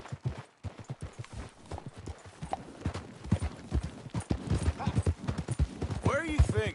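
Horse hooves clip-clop steadily in a PS4 video game, a close, rhythmic beat of evenly spaced strikes running beneath game voices and music throughout.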